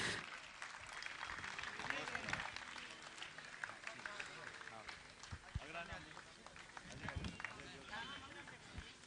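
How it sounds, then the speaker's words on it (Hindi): Sustained applause from a large audience at a Jain religious discourse gathering, crackling continuously beneath loud amplified speech. "आप लोग तालियां बजाते रहे"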